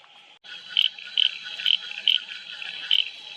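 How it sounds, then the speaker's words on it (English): Broad palm rocket frog calling in the bush, a series of five or six short, sharp chirping notes at fairly even intervals, moderately close over a steady hiss of insects. "Broad palm rocket frog."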